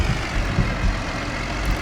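A case tractor engine from Farming Simulator 2013 runs at a steady low rumble, a continuous heavy idle-like drone that holds evenly through the short stretch with no talk.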